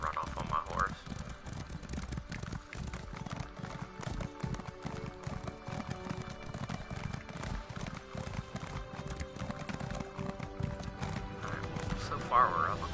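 A horse gallops in the video game Elder Scrolls Online, with rapid rhythmic hoof clip-clop and a neigh, mixed with other game sounds under ongoing talk.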